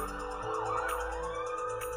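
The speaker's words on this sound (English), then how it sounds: "and it's actually sirens outside." Emergency vehicle sirens wail outside an apartment, a rising and falling tone that carries steadily through the whole stretch at moderate loudness, with no talking over it.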